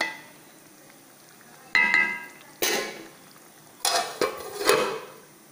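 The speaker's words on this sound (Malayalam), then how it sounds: "അപ്പോൾ ഇനി നമുക്കിതൊന്ന് നന്നായിട്ടൊന്ന് ഇളക്കിയിട്ട് നമുക്കിത് മൂടി വെക്കാം" Rice for vegetable biryani is stirred in a pot: five or so short, distinct scrapes and clinks of a spoon against metal, spaced irregularly over quiet background.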